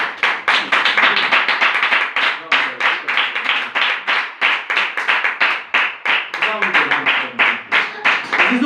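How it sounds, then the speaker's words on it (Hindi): A church congregation claps loudly together during a Hindi-language Christian worship service, a dense, steady run of rapid hand claps sustained throughout, close and full. "जिंदा खुदा के ईमान के लिए एक बार जोरदार तालियां।"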